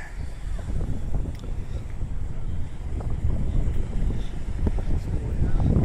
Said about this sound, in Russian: Ветер дует. Нехилый такой, холодный.